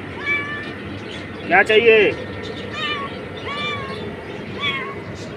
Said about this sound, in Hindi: ये है दोस्तों वाली बिल्ली, बहुत ही प्यारी है